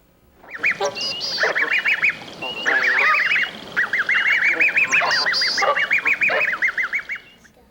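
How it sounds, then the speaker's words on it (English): A mother bird and her chicks calling in loud, close bursts of honking, goose-like cries, repeated rapidly in long overlapping runs with short pauses between them. "That animal you just heard was a mother bird and her chicks."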